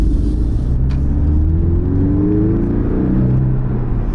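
Porsche 718 Boxster engine accelerating from inside the cabin, a loud deep rumble that climbs in pitch through the gears, steady and close, with no talking.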